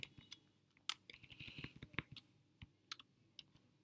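Quick, uneven keystrokes clatter on a computer keyboard while code is typed, with short bursts and pauses and a few sharper key clicks, close up and fairly quiet, with no voices.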